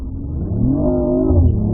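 A BMW i8's three-cylinder engine revs up close, a loud, smooth rising and falling drone with layered engine tones, alone without voices.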